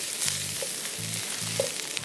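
Fried rice sizzles steadily in a pan, a thin layer of grains giving an even, moderately loud hiss, with a few short low tonal bursts recurring underneath.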